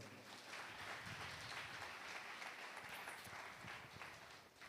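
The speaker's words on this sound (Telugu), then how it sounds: "చప్పట్లు కొట్టండి" Applause from a church congregation during a Sunday sermon, a continuous wash of clapping at a moderate distance, fairly quiet and steady throughout.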